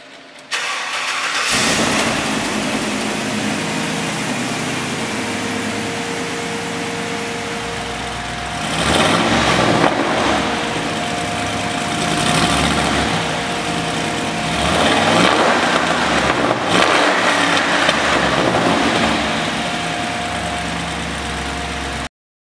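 A small-block Chevy V8 in a 1957 Chevy Bel Air convertible rumbles steadily at idle, with a few swells of revving that rise and settle back to a deep, even burble.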